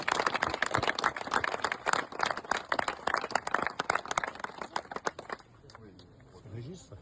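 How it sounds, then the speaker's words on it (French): Applause from a gathered crowd at the unveiling of a commemorative plaque, with an adjoint to the mayor present; brisk, dense clapping for about five seconds that then stops, with voices talking through and after it. "Voilà, on peut applaudir."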